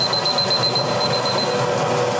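Kitchen timer going off while potatoes boil for a steak-and-potatoes dinner, a rapid continuous electronic beeping, fairly loud and steady, over a background of stove and kitchen noise.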